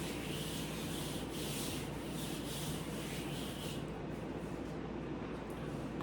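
A board is rubbed out with steady, continuous scraping strokes, close and fairly quiet, with no voice over it.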